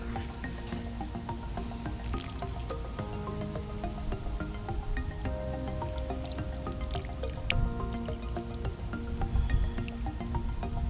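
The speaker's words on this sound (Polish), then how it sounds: "Minęły dwie minuty, zlewam wodę." Water drains off soaked fishing pellets in a steady trickle, with dripping and soft squishy liquid sounds running throughout, fairly close and with no talking.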